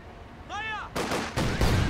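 Gunfire and artillery fire in the real-time strategy game Company of Heroes 2: a brief tonal warble, then two loud, rough blasts that roll on into a dense, sustained barrage.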